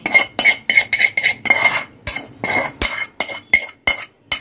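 Cooked fenugreek greens with garlic scraped from a kadai onto a plate, giving a rapid series of sharp metallic clinks and scrapes of a ladle against the pan, loud and close.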